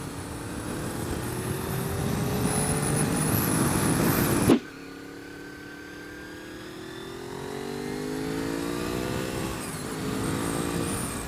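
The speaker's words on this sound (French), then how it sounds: "Mais le V4 ça a vraiment un son diabolique." 1998 Honda VFR 800 FI V4 motorcycle engine revving up under load, rising and falling in pitch, cut off abruptly midway and then resuming with a growing drone as it accelerates again.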